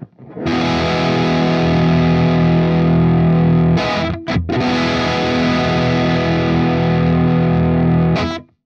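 Through a compressor with the attack knob set fully right, a loud distorted electric guitar chord sustains for several seconds, breaks off briefly, then is restruck and held until an abrupt stop, with no voice.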